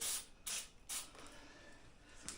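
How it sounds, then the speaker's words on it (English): A few short hissing bursts from an aerosol can of brake cleaner, followed by a longer spray that trails off, close by and fairly quiet. "Spray some carb brake cleaner"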